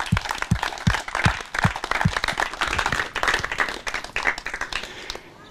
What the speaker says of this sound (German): auch das ist ein Applaus wert.